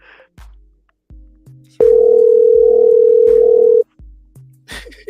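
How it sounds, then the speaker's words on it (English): An outgoing phone call rings: one loud, steady electronic ringback tone lasting about two seconds, set among shorter low thumps and brief noises before and after. "Let me see if he's gonna answer the phone."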